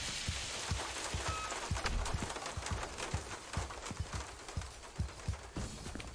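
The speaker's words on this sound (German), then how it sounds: "Also ich verstehe die Intention, Regen auf dem Dach darzustellen" Rain drums on a roof in the video game XIII Remake: a dense, steady hiss of patter broken by irregular heavier knocks and drips, with no voices.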